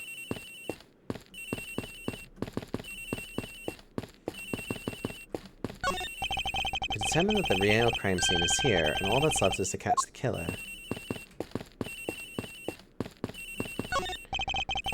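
A cell phone rings aboard a plane in a detective video game, repeating in short regular electronic bursts throughout, with a louder warbling stretch in the middle, under someone talking.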